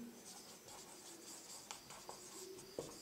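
A marker or chalk scratches across a board while a maths teacher writes out a calculation, a soft steady rubbing with a few sharper taps, faint and close with no voices.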